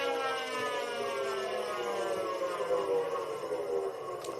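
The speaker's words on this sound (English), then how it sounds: "And we wait for the air raid siren to settle nice and down." An air raid siren sounds at a country football ground during a Lower South West Football League match, a steady sustained wail held at moderate, distant level for the whole stretch with no talk over it.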